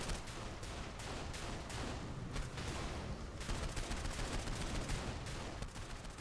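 Dense, continuous gunfire in Saints Row 4 co-op, rapid overlapping shots forming a loud sustained barrage for several seconds with no pauses.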